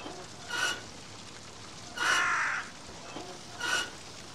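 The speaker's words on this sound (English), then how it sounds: "And why the hell are there crows in here?" Crows caw three times in a burning house in the video game Shutter: a short call, a longer harsh caw, then a third, each separated by quiet gaps.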